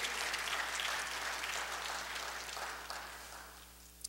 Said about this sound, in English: So you ought to just give yourself a hand clap for that.